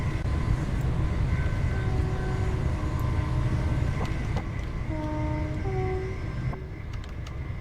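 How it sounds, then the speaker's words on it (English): A train in Train Simulator 2020 on the London Victoria to Chichester route runs and gathers speed, a dense rumbling drone with rising tonal whine layered over it, steady and continuous throughout. "the sound of the train's changing nicely."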